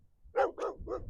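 A dog on a country path gives three quick, sharp barks at close range, loud against a quiet background.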